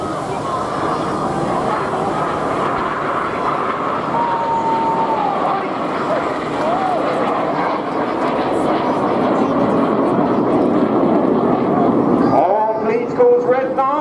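Red Arrows jets fly a corkscrew manoeuvre trailing red and blue smoke at the Torbay Airshow, a broad continuous engine roar swelling gradually louder, with an announcer speaking over it and crowd noise toward the end.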